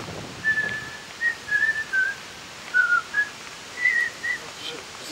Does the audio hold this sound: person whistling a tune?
yes